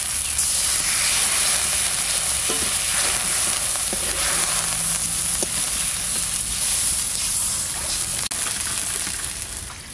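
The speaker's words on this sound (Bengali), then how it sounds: "এবার ঝোলের জন্য যে জলটা লাগবে দিয়ে দেবো।" Water added to a hot pan for a thin fish curry, a loud continuous sizzling hiss with bubbling that carries steadily throughout.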